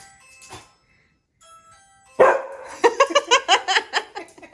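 A dog barks in a rapid burst of about eight loud, sharp yaps, following a brief quieter sound and a pause, reacting to a doorbell-like sound.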